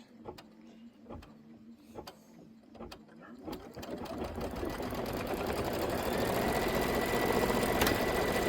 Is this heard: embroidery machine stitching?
yes